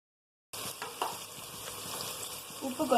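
Onions hit hot oil already holding cumin, fennel and a bay leaf. After a brief moment of silence, a close, crackling sizzle erupts and swells toward the end, with no talking.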